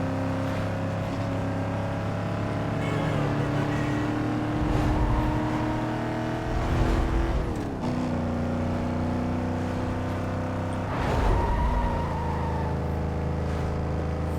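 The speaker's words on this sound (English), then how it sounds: "I'm liking this Mustang though." A Ford Mustang engine in Need for Speed Most Wanted drones steadily at sustained speed, with rising and falling pitch as it shifts and revs, loud and close throughout with no talk over it.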